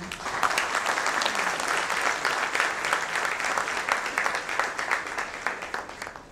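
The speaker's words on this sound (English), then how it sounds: "Ladies and gentlemen, a big round of applause for Dr. Kalam." A conference audience on ports gives sustained, dense applause for Dr. APJ Abdul Kalam, former President of India. The steady clapping stays loud and even for about six seconds, then thins slightly at the end.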